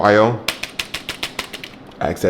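Keys are pressed on a standard full-size computer keyboard, about ten crisp clacks in a quick uneven rhythm, close by, with a brief voice at the start and at the end.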